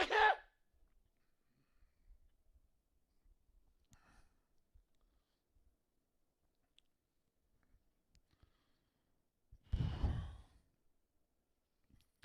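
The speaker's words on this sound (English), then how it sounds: "I'm going to sneeze right now." A single loud sneeze bursts out near the end, following a quiet stretch with a brief breathy sound at the start.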